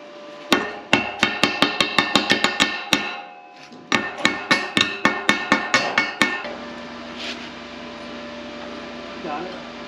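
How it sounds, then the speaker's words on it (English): A slag hammer knocks slag off a weld on a steel flatbed trailer. Two rapid runs of about a dozen sharp metallic strikes each ring out close and loud, followed by quiet background hum. "we might be able to take a slag hammer and hit that right there and knock that off"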